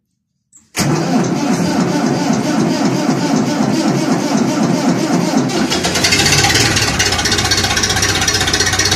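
A frozen tractor engine cold-starts with a sharp crank catch, then settles into a loud, steady diesel-like idle that grows slightly rougher and busier partway through, close and alone without talk.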